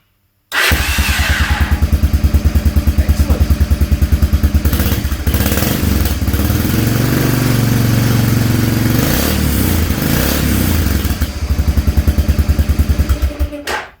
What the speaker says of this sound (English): you should hear the start solenoid click when I press the button, and then of course the engine crank